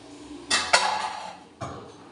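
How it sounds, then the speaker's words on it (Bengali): Dishes, pots and utensils being washed by hand: two quick metallic clanks close together, then a ringing scrape and one more clatter, close and fairly loud. "বাসন মাজাচ্ছি"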